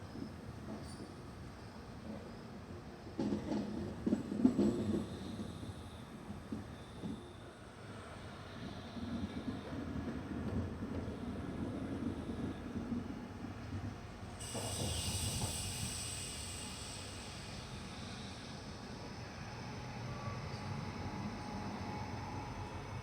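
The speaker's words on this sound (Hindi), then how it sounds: "तो अब देखते हैं ट्रेन धीरे धीरे स्किप करेगी या अनशेड्यूल्ड हॉल्ट लेगी।" An LHB passenger train, the Deekshabhoomi Express, rolls slowly through Mudkhed Junction without a scheduled halt, giving a steady low rumble and hiss that swells midway, with faint clatter and a brighter high hiss later on.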